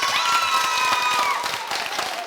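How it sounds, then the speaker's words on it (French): A studio audience at a television show applauds in a dense, continuous wash of clapping, with a tonal musical line running beneath it. "Alors, applaudissements d'abord pour vous."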